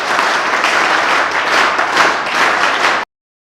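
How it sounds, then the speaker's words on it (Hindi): A group of children clap together in a dense, fast burst of applause lasting about three seconds in a room, then stop abruptly into silence. "एनएसएस ताली"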